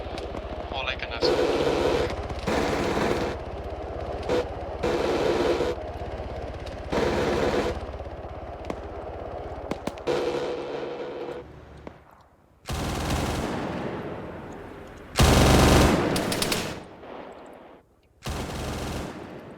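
Arma 3 gunfire, with bursts of automatic fire and sharp heavier blasts arriving in separate loud bursts between quieter gaps, some shots booming and echoing, while voices talk in the background.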